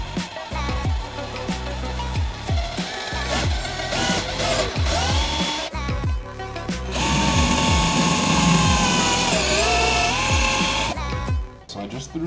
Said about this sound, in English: I'm going to go with a 1/4 inch size drill bit.